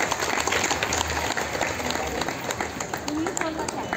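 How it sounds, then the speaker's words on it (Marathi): An audience at a Women's Day honors ceremony applauds loudly and steadily throughout, with a voice speaking over the clapping. "सर्वांनी जोरदार टाळ्या वाजवा."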